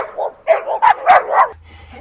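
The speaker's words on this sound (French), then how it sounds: "c'est un chien qui aboie" A dog barks in a quick burst of about five sharp, yappy barks, close and loud, then falls quiet.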